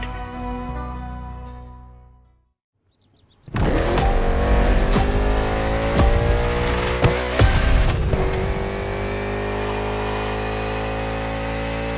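A NASCAR race car engine in The Crew Motorfest idles with a steady tone, cuts out for a moment, then roars back loud and revs hard, climbing and surging continuously near the listener.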